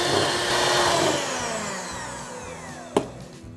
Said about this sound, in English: I'm gonna mix this on high until stiff peaks form.